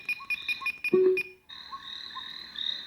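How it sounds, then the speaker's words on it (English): Repeated high electronic cricket chirps from an Umiwe sound machine in short rhythmic bursts, interrupted by a brief low tone, then a steadier chirping continues. Close and moderately quiet. "so that's kind of like a cricket sound."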